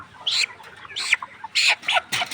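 Four loud, close clucks from a chicken with an eye infection, coming in short separate bursts with brief gaps between them.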